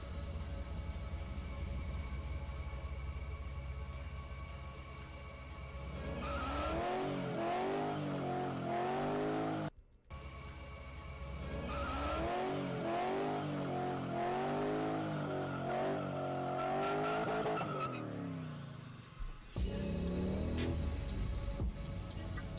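A Nissan S15 drifts with engine revving hard and rising, sweeping pitch across repeated passes and tire squeal, loud and continuous, broken by a brief cut near the middle.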